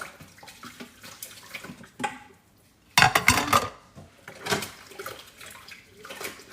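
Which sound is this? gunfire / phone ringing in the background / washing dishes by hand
washing dishes by hand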